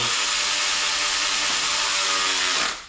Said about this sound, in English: I'm using a 1/4 inch snap-on electric ratchet